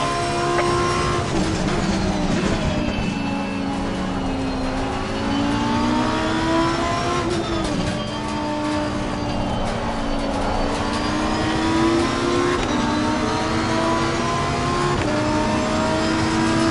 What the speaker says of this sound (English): McLaren backs off at the chicane